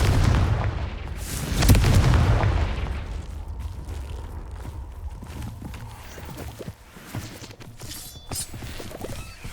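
Confringo fire-blast spell explosions from the Hogwarts Legacy video game, a loud booming burst near the start followed by smaller crackling pops and thuds over a continuous rumbling game background.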